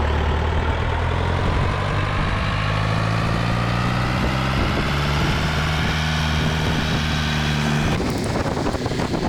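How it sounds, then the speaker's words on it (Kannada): A Mahindra Jeep drives uphill on a forest road during a monsoon ride, with a loud, steady engine drone and a rumbling hum that stays close throughout and shifts slightly near the end, and no voices. "ಅದಕ್ಕೆ ಜೀಪ್ ತೊಗೊಂಡು ಹೋಗ್ತಾ ಇದ್ದೀವಿ"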